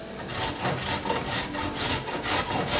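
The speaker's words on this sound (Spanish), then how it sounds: "lo que vamos a hacer ahora es rallar media zanahoria" Half a carrot is rubbed against a grater in quick, steady back-and-forth strokes, each one a close, raspy scrape, repeating without a break across the short stretch.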